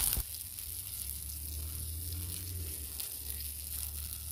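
Cactus pieces fry in oil outdoors, giving a faint, steady sizzle with light spattering that continues throughout and no voices.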